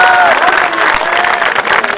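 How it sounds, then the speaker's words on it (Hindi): A crowd at a Hindi kavi sammelan poetry gathering claps loudly and continuously, dense applause filling the hall as a voice carries over it. "एक बार पूरे सदन से जोरदार तालियां हैं गौरी मिश्रा जी के लिए।"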